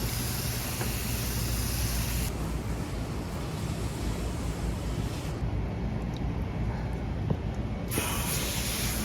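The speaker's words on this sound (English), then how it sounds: "you're gonna wanna rinse the condensing unit coils from the inside out" A garden hose sprays water through air conditioner condenser coils from the inside out, a steady broad rushing hiss that shifts in tone as the stream moves across the fins, close and continuous with no talking.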